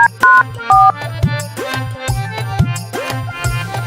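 A phone call to a bank sounds from a handset: short electronic ringing tones and dial-like beeps, loud and close, followed by a busy rhythmic melodic pattern.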